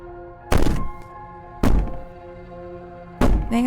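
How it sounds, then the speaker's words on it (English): Three heavy, booming thuds strike a door in a video game, spaced about a second or more apart, each loud and close with a short ringing decay and no voices. "Bang the door all you want, it'll only make you bleed out faster."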